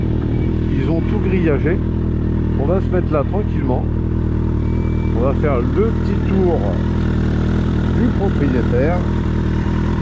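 A 1996 Suzuki Bandit 1200 motorcycle engine runs steadily at idle throughout, a continuous low rumble beneath someone talking outdoors.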